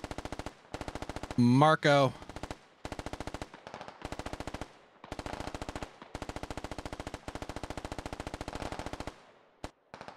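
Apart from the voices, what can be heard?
machine gun bursts in the video game Squad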